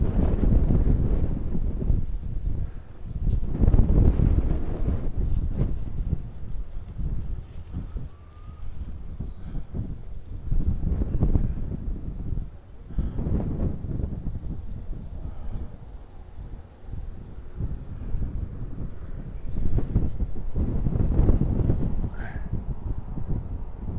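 Gusty wind buffets the microphone in broad rumbling surges that rise and fall every few seconds, loud and close, with no voices, beside the Long Island Rail Road at Speonk.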